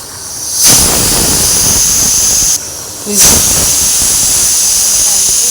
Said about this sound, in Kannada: ಈಗ ವಿಸಿಲ್ನು ಬರ್ತಾ ಇದೆ